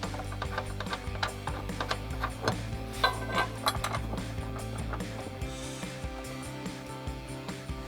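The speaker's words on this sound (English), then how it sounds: "now I'm going to take the bolts included in the kit and thread those into those holes" Kit bolts being threaded by hand into bracket holes while fitting Go Rhino RB20 Slim running boards; close, scattered light metallic ticks and clinks with small tool clatter, no talking.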